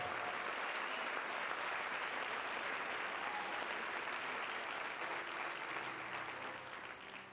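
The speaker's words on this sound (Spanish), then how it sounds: "denle un aplauso a ellos que vienen por primera vez hoy" Warm congregational applause in a Spanish-language church service, greeting first-time visitors, a dense continuous clapping wash that holds steady and fades slightly at the close, heard at a modest level.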